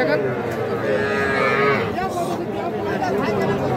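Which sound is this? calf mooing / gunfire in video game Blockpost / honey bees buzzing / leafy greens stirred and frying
calf mooing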